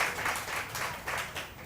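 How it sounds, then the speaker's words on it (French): Brief audience applause at a Loto Fortune bingo-style draw in a French-speaking hall as a ball is presented, a dense patter of clapping lasting under two seconds at moderate loudness. "Merci de l'applaudir."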